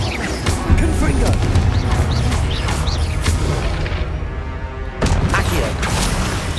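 Confringo blasting curse explosions in a Hogwarts Legacy boss fight, a dense run of loud booms and crashes layered over constant battle noise, with a sharper blast near the end.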